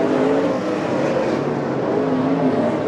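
Sprint cars race on the dirt oval at Grays Harbor Raceway, a dense, continuous engine roar from several cars filling the whole stretch, loud and steady as the field works through traffic.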